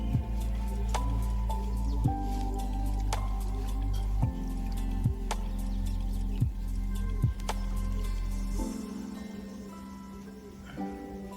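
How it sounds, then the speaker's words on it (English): Liquid mercury dripping through a cloth filter during e-waste gold recovery, a slow series of soft, close plops spaced about a second apart over a low steady background hum. "You can actually see the mercury dripping down, drop by drop."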